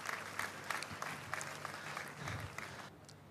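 A church congregation claps in a quiet, rhythmic burst, roughly a dozen distinct beats heard at low level from a distance with some room echo.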